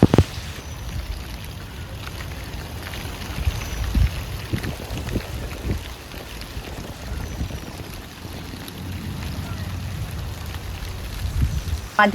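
Steady rain falls and patters on surfaces, a constant wash of noise with occasional louder drops, fairly close throughout.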